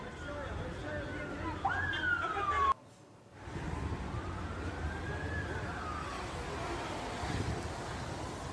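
Ambulance sirens wail in rising and falling sweeps at a moderate distance after an explosion in Ankara, cut briefly by a short drop-out, over a steady background rumble.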